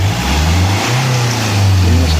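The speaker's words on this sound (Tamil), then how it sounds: "பாருங்கள், நல்லா ஸ்டார்ட் ஆகுது இன்ஜின்" A Hyundai Verna diesel car engine, just fitted with a new O-ring and bled of air, starts and runs at a steady low idle rumble, loud and close, with a slight rise in revs.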